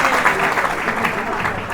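An audience at a religious gathering applauds an ascetic who is observing a Dharmachakra fast. The clapping is dense and continuous throughout the short burst.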